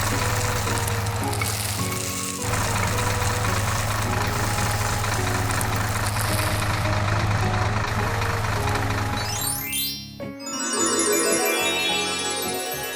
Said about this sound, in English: Tractor spreads the seeds across the field.